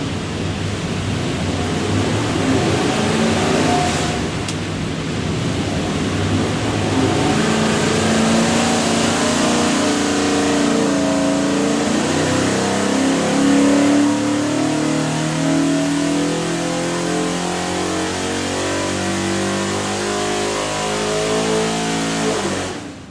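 A 347 stroker small-block Ford with a custom hydraulic roller cam, built for a 1970 Mustang, pulls hard on a dyno, a loud, close, continuous engine roar sweeping steadily upward in pitch as revs climb, then cutting off at the end.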